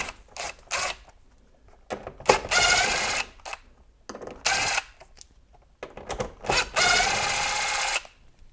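A power tool whirs in repeated short bursts with pauses while 7 mm bolts come out of a C7 Corvette rear fascia, close and fairly loud, no talking.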